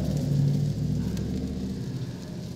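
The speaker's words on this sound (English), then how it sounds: "Big truck there, sounds like the guy rolling through my neighborhood on morning times about 5:30" A big newspaper-delivery truck rolling through a residential neighborhood around 5:30 in the morning, a steady low rumble from a short distance that slowly fades as it passes.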